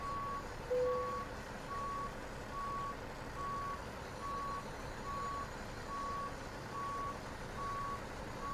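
A semi truck in American Truck Simulator backs up slowly, its reversing alarm beeping in a steady, evenly spaced series over a low engine rumble.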